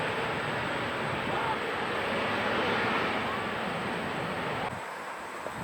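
An airliner takes off from runway 34 right at Incheon Airport with a loud, steady broadband engine roar that cuts down near the end.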